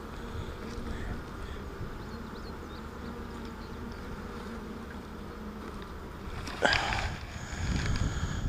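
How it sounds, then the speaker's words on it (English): Honeybees buzz steadily around an open hive during an inspection, a close, continuous drone, followed near the end by a brief rustle and knock as the frame is handled. "I'm gonna shake these bees off"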